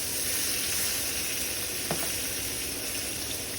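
A venison backstrap sears in a pan, giving a close, steady sizzle with a constant hiss and one brief crackle partway through.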